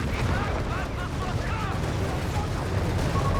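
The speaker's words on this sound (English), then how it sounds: "Got another artillery coming up" Artillery fire rumbles through a battle in the World War II strategy game Company of Heroes 3, a dense continuous roar of booms and mechanical noise with voices murmuring underneath.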